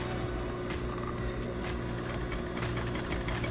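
A sewing machine runs steadily while stitching a curved seam on a fabric pocket face mask, giving a continuous, even motor hum at moderate loudness with no talk.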